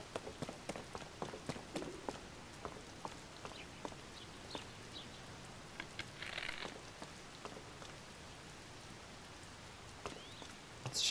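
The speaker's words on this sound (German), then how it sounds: "Weil der Regen laut ist." Rain falls in the video game The Legend of Zelda: Tears of the Kingdom, a quiet steady patter of drops with scattered sharper ticks and a few hoof-like footfalls, faint and with no talking.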